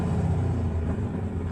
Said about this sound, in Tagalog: Ang ingay, pasensya na sa tricycle.